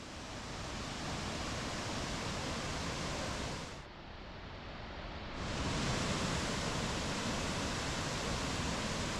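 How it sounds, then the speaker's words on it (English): The main waterfall at Krka National Park roars as a steady, dense wash of rushing water that dips briefly near the middle and then returns slightly louder. "Finally, you'll stand before the main falls, and witnessing it in person is a surreal moment."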